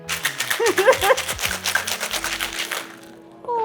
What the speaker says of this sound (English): Shake the hell out of this one.